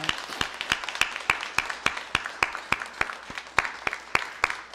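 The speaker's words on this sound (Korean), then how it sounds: "우리 박수로 환영하겠습니다." A church congregation at a Sunday service claps to welcome a first-time visitor, sharp distinct claps in a steady, slightly uneven rhythm, moderately loud and close, with a soft murmur of voices underneath.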